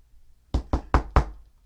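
Four firm knocks land on a bathroom door in quick succession, close and heavy with a deep thud, over a quiet low hum and with no one speaking.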